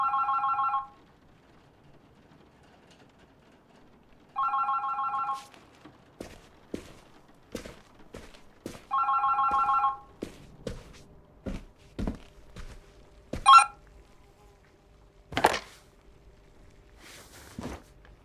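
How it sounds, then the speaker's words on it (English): A telephone rings in the Berlin Apartment video game: three distinct bell bursts a few seconds apart, followed by thuds and footsteps. "Oh, the phone."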